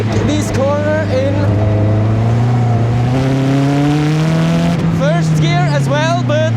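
A Lotus sports car's engine hums loud and close while cornering, its note swelling and sliding in pitch under excited talk from the driver.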